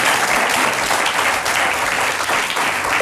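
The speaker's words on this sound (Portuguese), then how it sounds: "Eles aplaudem isto, eles adoram" A studio audience at a late-night comedy talk show breaks into loud, sustained applause, a thick, continuous wash of clapping that stays strong throughout, with no speech on top.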